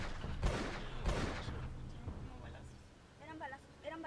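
Gunshots ring out outdoors near San Carlos lake, two heavy booming reports about half a second apart followed by echoing rumble, with people talking excitedly afterward.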